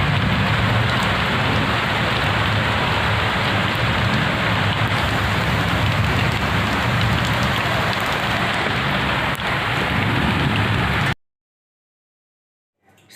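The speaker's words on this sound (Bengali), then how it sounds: "এবার কিন্তু অনেক জোরে বৃষ্টি নেমেছে" Heavy rain pours steadily as seen from a balcony, a dense, loud, continuous hiss that holds constant for about eleven seconds and then cuts off abruptly into silence.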